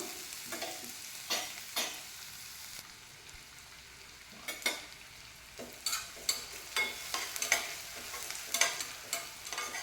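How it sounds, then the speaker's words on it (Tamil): Half a cup of onions sautés in a pan for a green peas gravy, with a soft steady sizzle broken by repeated close scraping and clacking strokes of a stirring spoon. "நல்லா வதங்கட்டும்"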